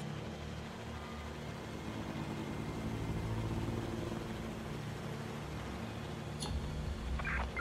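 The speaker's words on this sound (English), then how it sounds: "Drone's been deployed to apprehend the suspect." Police drone in Watch Dogs: Legion, a steady, moderately faint mechanical hum under constant city traffic drone, with a brief sharp sound near the end.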